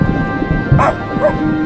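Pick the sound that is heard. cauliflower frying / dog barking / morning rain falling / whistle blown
dog barking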